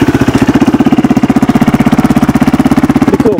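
The LC4 single-cylinder engine of a KTM 620 RXC motorcycle runs close and loud, with an even, rapid, thumping pulse that continues without pause and no voices.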